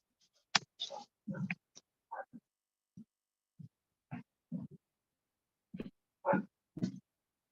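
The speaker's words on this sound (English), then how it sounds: "Bad dog, no." A dog giving a series of short, sharp barks and yelps in a quiet indoor setting, spaced irregularly with brief gaps, moderately close and otherwise alone.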